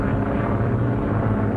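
An ambulance plane losing altitude in flight gives a loud, steady engine and propeller drone, continuous and close, with no voices.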